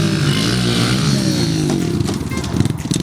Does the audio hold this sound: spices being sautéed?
no